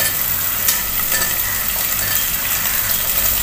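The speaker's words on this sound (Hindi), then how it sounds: "इसको हम हल्का सा सोटे कर लेंगे" Vegetable rice with capsicum, baby corn and green onion sautés in a hot pan, a loud, continuous close-up sizzle with bursts of stirring scrapes and no voices.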